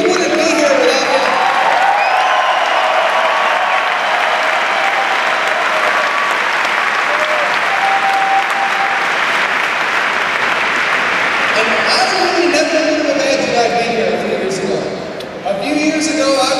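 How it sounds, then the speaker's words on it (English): A large rally crowd gives sustained, loud applause with cheering and whoops, a dense wash of clapping that holds steady before tapering near the end. "I think he deserves a round of applause because we wouldn't be here without him."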